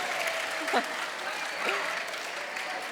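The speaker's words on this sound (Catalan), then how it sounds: "podeu aplaudir si voleu" Steady applause from an audience fills the clip, with a voice briefly speaking in Catalan over the clapping.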